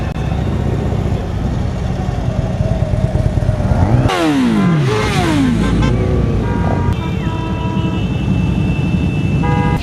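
Loud, continuous engine roar of a large column of motorcycles riding through city streets to a rock festival in Dnipropetrovsk, with revving and a horn toot, a swelling wave of engines midway.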